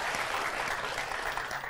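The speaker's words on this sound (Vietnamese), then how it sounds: "Vỗ tay quý vị ơi." Steady, dense applause from a studio audience at a stage show, continuous clapping filling the short stretch with no gaps.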